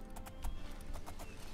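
A shod horse walking in The Elder Scrolls IV: Oblivion, a series of clopping hoofbeats from horseshoes in an irregular walking rhythm, close and moderately loud.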